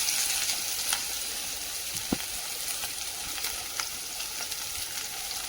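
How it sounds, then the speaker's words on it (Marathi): Chopped onions and green chillies sautéing in a pan, a steady close sizzle and crackle with a few faint stirring clicks, no talk. "हे बघा असं परतू द्यायचं याला थोडा वेळपर्यंत."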